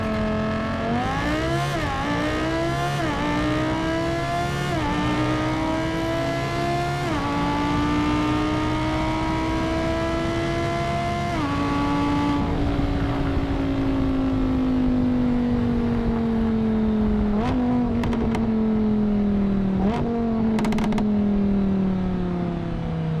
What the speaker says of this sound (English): This car also has the Lamborghini original racing exhaust, gives it a little bit of a deeper tone, and just sounds awesome